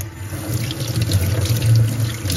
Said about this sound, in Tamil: நல்லா அலசி எடுத்துக்கணும்.